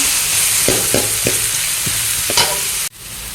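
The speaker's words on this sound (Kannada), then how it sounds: "ಒಂದು ಮೂರು ಮೆಣಸು ಕಟ್ ಮಾಡಿ ಇಟ್ಕೊಂಡಿದ್ದೇನೆ ಅದನ್ನು ಹಾಕ್ತೇನೆ ಹಾಕ್ಕೊಂಡು ಸ್ವಲ್ಪ ಫ್ರೈ ಮಾಡಿ" Chopped chillies for egg rice fry in a pan with a loud, steady sizzle, and a spoon clicks against the pan several times before the sizzle cuts off abruptly.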